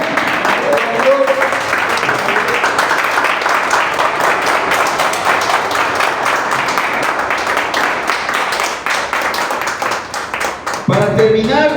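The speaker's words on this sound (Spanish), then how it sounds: "una alabanza de aplausos al Señor" A church congregation applauds continuously and loudly at an evangelical Christian service, dense clapping filling the room for the whole stretch before tapering near the end.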